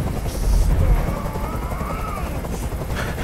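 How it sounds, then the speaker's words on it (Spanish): A police helicopter hovers overhead in the video game Detroit: Become Human: a continuous throbbing rotor chop beats rapidly for over three seconds with a heavy low rumble, while other game sounds sit faintly beneath it. "¡Haz que ese helicóptero se vaya!"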